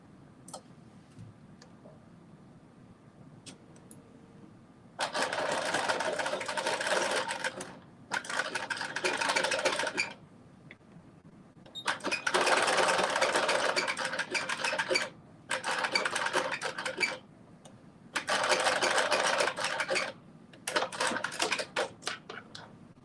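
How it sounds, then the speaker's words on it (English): A sewing machine runs a zigzag stitch along a maxi dress in bursts of steady rapid clatter, several runs of a few seconds each separated by short pauses, close and clear. "now I am doing my zigzag stitch on this one as well"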